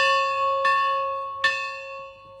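An old locomotive bell rung at a railfest in Scranton gives two distinct clangs about a second apart, each leaving a long, bright ringing tone that lingers and slowly fades, close by and with no talking.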